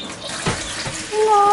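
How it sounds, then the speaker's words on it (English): Tap water runs into a chick waterer being refilled for a brooder, a steady close splashing gush with no voices. "Refilled the water."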